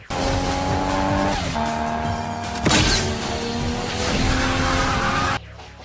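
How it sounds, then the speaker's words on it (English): A Nissan Skyline in a 2 Fast 2 Furious nitrous boost scene, loud revving engine roar with a sharp tire squeal and whooshing surge in the middle, ending abruptly. "And there is a very short clip that shows Brian O'Connor hitting the nitrous button, and all 3 gauges actuate at the exact same time."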